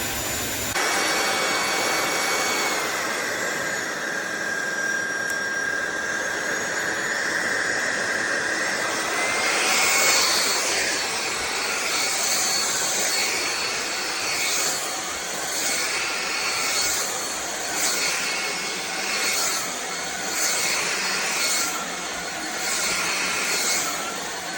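A SunSare 600W cordless stick vacuum cleaner runs continuously with a loud, high-pitched motor whine and rushing suction, the tone shifting partway through as it moves across the floor.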